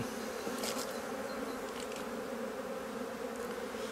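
Honey bees hum steadily at the hive entrance during a spring inspection, a dense, continuous drone close by and fairly loud with no talk over it.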